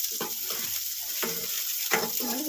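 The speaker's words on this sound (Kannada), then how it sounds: "ಇದಕ್ಕೆ ಎಣ್ಣೆ ಚೆನ್ನಾಗಿ ಫ್ರೈ ಹಾಕ್ಬಿಟ್ಟಿದ್ದು ಈರುಳ್ಳಿ ಬೆಳ್ಳುಳ್ಳಿ ಮತ್ತು ಮೆಣಸಿನ್ಕಾಯಿ" Onion, garlic and green chilli sizzle in hot oil for a Kannada ridge gourd chutney, with three bursts of stirring scrapes over a steady frying hiss and no talk.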